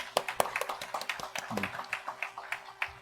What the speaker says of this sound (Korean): 우리 목사님 사모님 박수 한번 축복하고 싶습니다